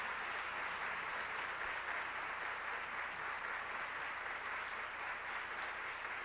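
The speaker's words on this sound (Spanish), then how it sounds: "merecidísimo aplauso" Steady, sustained audience applause fills a panel session on digital and school culture, a broad wash of many hands clapping evenly without pause, moderately distant, with no voices on top.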